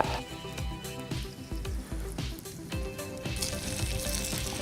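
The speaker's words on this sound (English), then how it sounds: "Ooh, sizzling." Chicken wings sizzle in olive oil in a pan, a steady crackling fry with scattered pops and spits, soft and close throughout.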